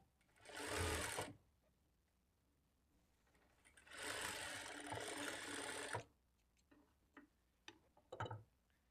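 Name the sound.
sewing machine stitching joined blouse strip pieces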